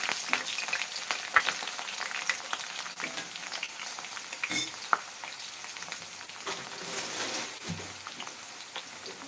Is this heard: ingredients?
yes